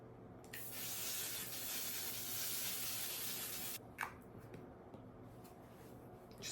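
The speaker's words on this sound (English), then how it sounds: "I have this L'Oreal setting spray that I'm convinced is just a travel size hairspray." A L'Oreal makeup setting spray hisses in one long, steady burst lasting several seconds, close and fairly soft, followed by a quieter short spritz and faint handling noises.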